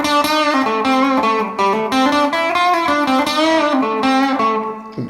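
An electric guitar played through a DIY Klon clone overdrive pedal bought from Wish rings out with a thick, lightly driven tone, chords and notes sustaining loudly with no voices.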